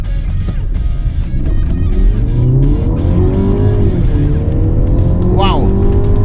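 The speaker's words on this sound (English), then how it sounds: "let me go flat out and try to hear that sound from the engine" A 2023 Mercedes-Benz GLC 300 SUV being driven flat out, with a steady rising engine and exhaust drone from inside the cabin and someone talking over it.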